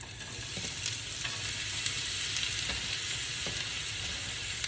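Bitter gourd and ginger, with onion and chillies, frying steadily in a hot pan for a bitter gourd thoran, with a continuous close sizzle and occasional soft scrapes of stirring.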